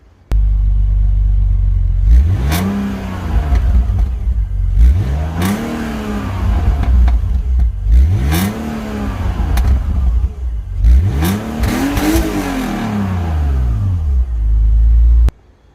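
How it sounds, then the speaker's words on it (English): The exhaust of a BMW 330i running on LPG is revved four times, each blip rising and falling in a loud, deep, close roar between steady idle rumble. "So I put a clip of the exhaust in now before we carry on."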